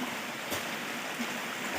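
The Batang Labuh river in a forest camp on a morning flows as a steady, faint, broadband rush of water with no distinct splashes.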